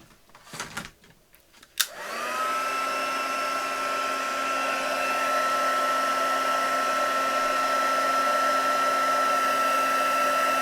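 A handheld heat tool warming an ephemera tag: a short burst of clicks and handling, then a steady, close whirring blow that holds on at an even level to the end.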